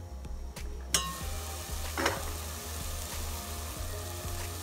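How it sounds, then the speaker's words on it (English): Steady loud sizzling of cauliflower rice stir fry in a hot pan, with occasional scrapes and clinks of a utensil stirring, no talking. "can you hear the sizzling?"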